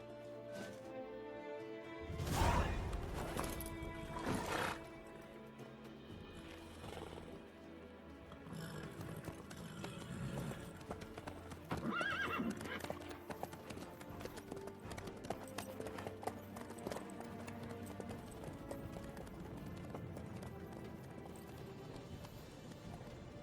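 Rhythmic hoofbeats clip-clop steadily throughout, with a horse running amid a dense soundtrack of music and effects in The Witcher 3.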